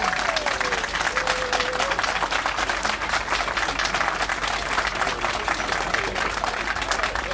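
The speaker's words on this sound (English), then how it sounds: "A round of applause, please." A crowd gives sustained applause at a community center and library grand opening, dense steady clapping filling the whole stretch at close range with faint voices mixed in.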